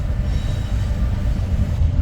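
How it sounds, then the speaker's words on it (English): A train rumbles past close by, a loud continuous low roar with steady rolling wheel noise throughout and no voices. "let's just wait for this train"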